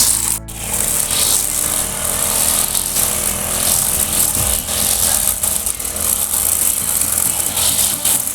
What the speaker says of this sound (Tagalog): Grass cutter naman po dito